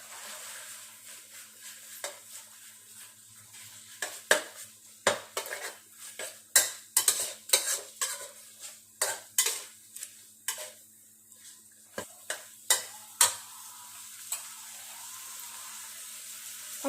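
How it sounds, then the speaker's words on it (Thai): Pork is stir-fried in a pan for a Thai pumpkin curry, with a spatula scraping and clattering against the pan in irregular taps and knocks over a faint, steady background hum. "ใส่หมูค่ะ ใส่หมูลงไปผัดพอหม"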